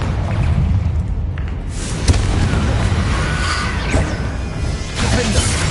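In the Hogwarts Legacy video game, a Confringo fire spell explodes amid the game's heavy low rumble, with a sharp boom and scattered crackling, whooshing bursts over a loud, continuous soundscape.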